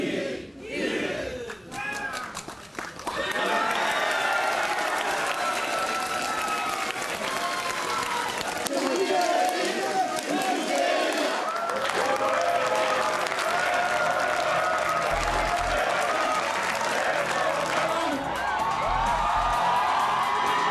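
A large audience at a Korean political event bursts into sustained applause mixed with loud cheers and whoops, the clapping rising quickly and holding strong to the end, with scattered voices in the crowd.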